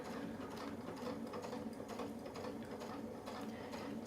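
Quilting sewing machine running steadily along a brick template, a quiet, even mechanical whirr with rapid needle ticking throughout, nearby with no talking.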